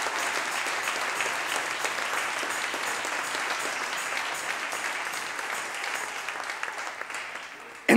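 Church congregation applauding, steady crowd clapping that stays even and sustained for about eight seconds, with a short louder burst at the very end.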